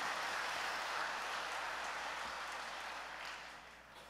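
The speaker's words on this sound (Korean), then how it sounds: "다시 한번 뜨거운 감사의 박수 쳐드리도록 하겠습니다" Applause from a church congregation thanking the choir after its hymn, a dense, steady clatter of many hands that fills the hall and slowly fades toward the end.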